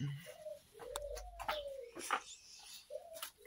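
Turtle doves coo softly in repeated low, hollow calls, with faint chirps from other birds nearby.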